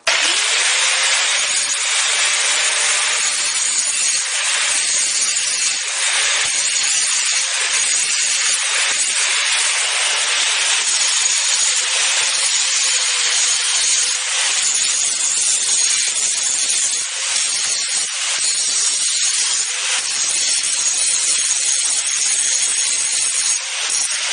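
A power tool works the bottom weld on a Pittsburgh air ram bender, giving off a continuous harsh, hissing grind that stays close and loud for the whole stretch without pause.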